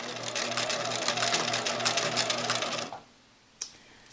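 Sewing machine back stitching along an apron hem: a loud, continuous close-up whir for about three seconds that stops abruptly, followed by a single small click, with no voices.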